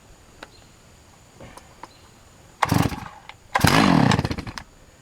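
A chainsaw used for sawing firewood logs sputters as someone tries to start it, giving two short loud bursts of engine noise after faint clicks and pulls, close by and outdoors.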